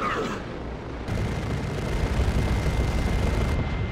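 Artillery barrage in the strategy game Dawn of War 2: Retribution, dense rumbling booms merging into a loud continuous roar of blasts that lasts several seconds.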